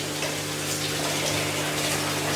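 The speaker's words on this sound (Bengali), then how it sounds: "এবার আমি চালটা ধুয়ে নিচ্ছি" Rice being rinsed in water at home: a continuous close rush of running water with a steady low hum beneath, unbroken throughout.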